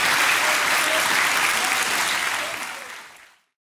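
An audience applauds a poetry performer in a hall, a loud sustained wash of clapping that holds steady and then fades out to silence.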